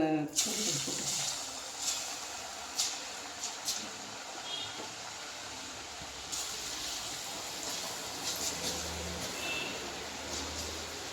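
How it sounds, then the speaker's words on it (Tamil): Masala-coated peanuts deep-fry in hot oil, giving a steady, loud sizzling hiss with bubbling crackle through the whole stretch and a few brief sharper pops. "இந்த மாதிரி நல்லா பொரிச்சுக்கலாம்."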